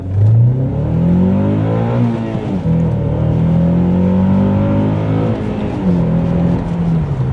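A manual Honda Accord Euro CL9 accelerates hard up a motorway on-ramp, its engine heard from inside, climbing loudly through the revs with brief dips at each gear change.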